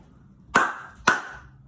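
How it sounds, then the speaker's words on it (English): Two sharp hand claps about half a second apart, close and crisp, made during a seated wheelchair push exercise in a home workout, with quiet room tone between them. "we're going to do 1 push, 1 clap, or 1 push and 2 claps"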